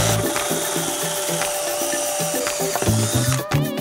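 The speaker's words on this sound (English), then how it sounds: "First step is to drill a hole at the bottom of the rain barrel" A steady grinding, rasping whir of a drill boring a hole through the bottom of a plastic rain barrel, continuous for several seconds with some clattering toward the end.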